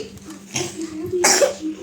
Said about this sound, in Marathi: खोकला येतोय थोडं थोडं